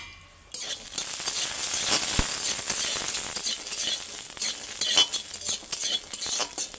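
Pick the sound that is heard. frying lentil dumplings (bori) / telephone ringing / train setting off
frying lentil dumplings (bori)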